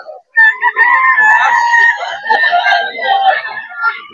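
A bullstag rooster at a pet market crows loudly and close by in one long, warbling call, with a short break and then a second stretch, amid faint background voices.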